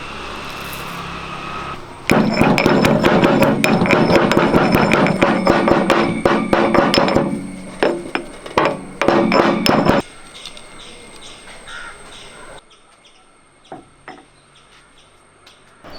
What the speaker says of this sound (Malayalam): ഒരു ടീസ്പൂൺ കുരുമുളക് ഒന്ന് ചതച്ചെടുക്കാം